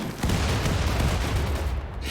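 Rapid bursts of gunfire from a Rimworld battle crackle almost continuously, dense and loud, with overlapping shots and low booms rolling underneath.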